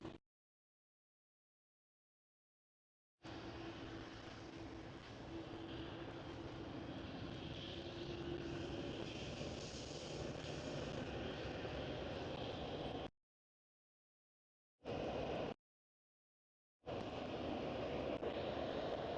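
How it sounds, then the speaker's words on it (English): A Boeing 737 jet departing Amsterdam Schiphol roars steadily at a distance, a broad continuous rumble with brief cutouts, no voices heard. "And a 737 departing, runway 18 left."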